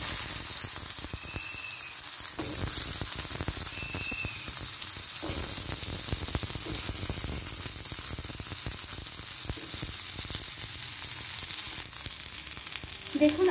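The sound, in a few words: pointed gourd and pumpkin frying in oil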